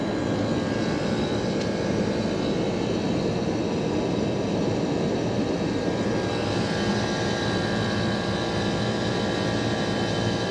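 An HVAC air-conditioning compressor unit runs outdoors with a steady, loud, broadband roar and a continuous hum that stays constant throughout, with no voices.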